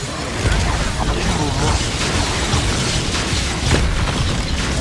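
A blasting curse spell in Hogwarts Legacy goes off amid a dense, loud combat din of booms and crackling impacts, with shouted voices over the top.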